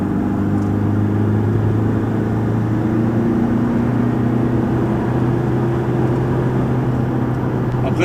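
A loaded Ford Transit Custom van's engine drones steadily under acceleration from inside the cab, a continuous, fairly loud hum with no talk.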